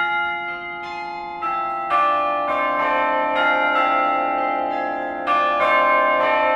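Tower bells, a carillon, play an arrangement of a slow melody of bright, resonant struck tones that ring and overlap over a sustained low hum, loud and close with no voices.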